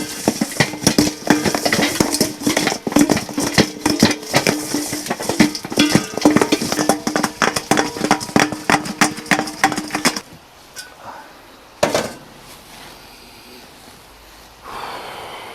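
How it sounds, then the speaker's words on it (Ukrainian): Rapid metallic scraping and clinking of a utensil stirring potatoes frying in a kazan, busy and close for several seconds, then a few scattered clanks. "Накриваю другою кришечкою і гарно вимішую"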